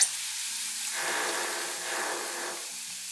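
Hot tempering of fried shallots is poured onto cooked taro and bursts into a loud, close sizzle that swells into a broad hiss, holds for a couple of seconds, then eases off.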